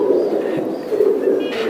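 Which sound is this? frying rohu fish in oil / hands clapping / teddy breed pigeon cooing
teddy breed pigeon cooing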